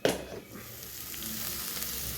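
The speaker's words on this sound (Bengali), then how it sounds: "রসুনটা একটু লাল লাল করে ভাজবো মিডিয়াম ফ্লেমে।" Garlic frying over medium flame in a pan with cumin and whole garam masala, for palak paneer. It gives a close, steady sizzle that starts with a brief louder burst and then holds even for the rest of the clip.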